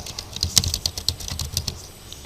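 Rapid, uneven typing on a computer keyboard while entering text in Microsoft Word, with crisp close key clicks in irregular bursts and no talk over them.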